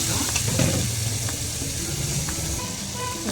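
Capsicum sautés in a pan with softened tomato, giving a dense, continuous sizzle with a few faint clicks, close and even in level, without speech.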